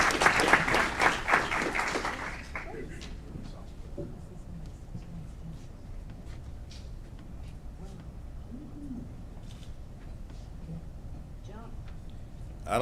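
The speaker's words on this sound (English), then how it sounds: "A big round of applause for state champion, Kiwan Marshall." Audience applause at a city council meeting, a burst of clapping for about two seconds that quickly fades, followed by quiet room noise with scattered small sounds and movement.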